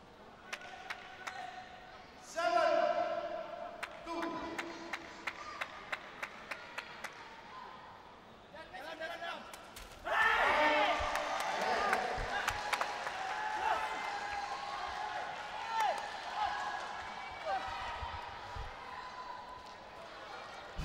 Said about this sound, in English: Fervent applause from the seats.